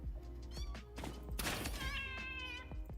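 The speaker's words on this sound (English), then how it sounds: "I can hear meowing." Cat meowing in the video game Satisfactory, several short, tonal meows in quick succession over a low steady hum, fairly close and clear with a soft thump in the middle.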